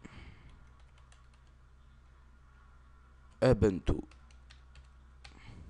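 A short burst of computer-keyboard typing while entering a search in a web browser, a handful of quick close clicks heard alone after someone speaking French.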